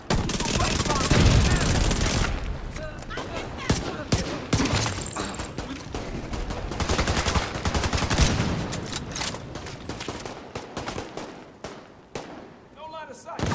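Gunfire rattles through a session of the video game The Division, dense bursts of rapid shots and impacts that are loud and continuous, with a player talking over the action at points.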